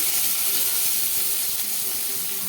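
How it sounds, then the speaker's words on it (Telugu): Onions hiss and sizzle loudly in hot olive oil, a dense, steady, close frying sound that barely changes over its short length, with no voices. "కొంచెం ఉల్లిపాయలు వేసుకుని ఫ్రై చేసుకుందాము"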